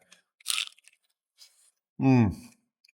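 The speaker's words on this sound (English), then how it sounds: "Really good crunch right there." A crunchy birria taco dipped in broth and topped with salsa verde is bitten into, giving a short, sharp crunch with a few small crackles around it, close and fairly loud, followed by a voiced sound.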